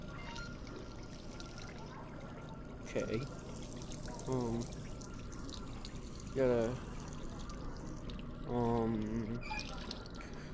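Cold water runs from a sink tap in short, separate bursts of pouring and splashing. A person talks in between the bursts.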